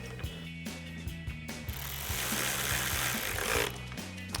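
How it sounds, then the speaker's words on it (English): A ratchet wrench driving the upper 10mm headlight bolt on a 2017-2019 Ford F-250 during a projector headlight install, giving a steady run of quick close clicks that grows busier midway. "we'll go ahead and reinstall our upper 10mm bolt at the top here"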